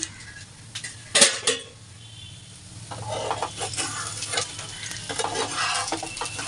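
Steady sizzle of fish roe frying on low heat in a covered pan, with a few clanks and scrapes of a utensil, growing denser and louder in the second half; no talking.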